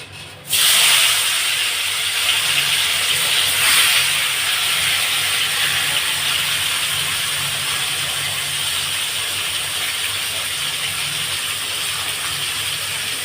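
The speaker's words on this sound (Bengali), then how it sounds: "কড়া গরম হয়ে গেছে, এবারে মাংসটা দিয়ে দেব।" Chicken pieces drop into a hot kadai of mustard oil, and a sudden loud hissing sizzle bursts up close. It then settles into a strong, steady fry that continues without a break.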